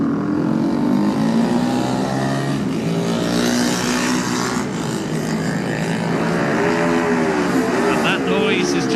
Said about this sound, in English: And that noise is James Hillier on the CSC Racing Honda.